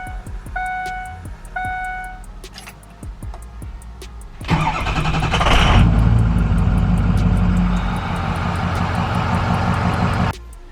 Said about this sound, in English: Onto the truck. Pull it forward.